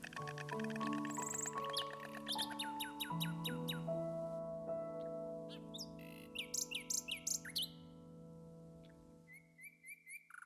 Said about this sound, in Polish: Czy nadal będzie tu słychać śpiew słowika